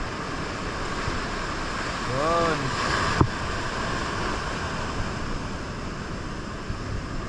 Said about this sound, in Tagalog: Ayan o, abot ng alon.